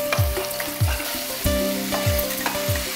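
Garlic, green chillies and curry leaves fry in hot oil for a Vijayawada-style brinjal and salted fish dish, a loud close crackling sizzle broken by repeated rhythmic stirring scrapes of a ladle in the pan.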